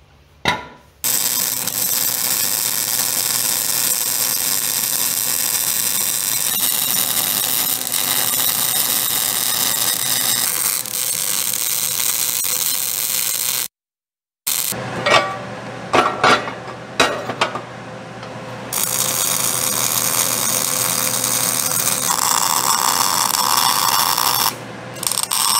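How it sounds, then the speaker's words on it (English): A steering rack bracket for a 1940 Chevy coupe's rack-and-pinion system is welded in long, steady crackling hisses, close up, broken by a short silent pause and a few clanking metallic knocks before the welding resumes. "Got the bracket out and let's weld her up."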